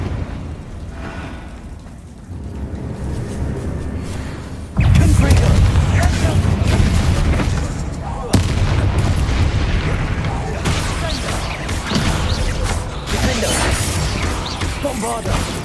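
Hogwarts Legacy's Bombarda blasting spell detonating as loud, heavy explosive booms with crashing debris, a big blast near five seconds and another around eight, over rumbling game sound and a voice casting spells.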